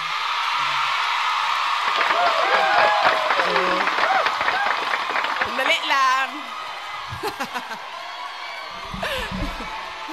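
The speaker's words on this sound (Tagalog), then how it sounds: "grabe ang hiyawan ng mga OFW na nasa Hong Kong" A large crowd of overseas Filipino workers in Hong Kong cheers and shouts continuously at a political gathering, with whoops and clapping rising and falling while someone speaks over the din.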